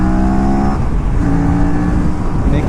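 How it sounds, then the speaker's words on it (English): An Aprilia RS 457 motorcycle fitted with Brembo race brake pads braking hard, its engine note dropping from a held tone as the bike slows, loud and close with wind noise over it. "Making sure no one is there behind me, I slam on the brakes."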